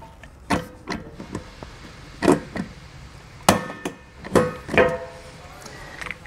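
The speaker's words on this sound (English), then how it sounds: "Now I can go ahead and insert my rivet." A rivet tool sets rivets while a Wheel Masters inflation kit is mounted on a 2022 Jayco Alante motorhome, giving several sharp metallic snaps and clicks spaced apart, close and fairly loud.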